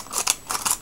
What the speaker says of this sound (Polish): Nożyczki z Ikei to jest coś, naprawdę polecam wam